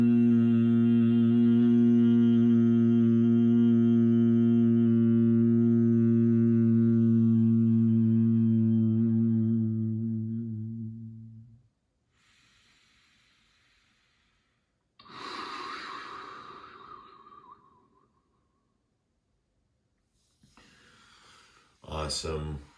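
Bhramari humming bee breath: a long, loud, steady hum lasting about eleven seconds, then quiet breathing with a couple of audible inhales and exhales.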